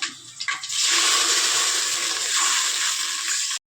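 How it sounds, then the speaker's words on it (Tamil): Water pours steadily into a cooking pot of biryani spices for a few seconds, a close, bright gushing rush that cuts off abruptly. "இப்போ வந்து தண்ணி சேர்க்க போகிறோம்."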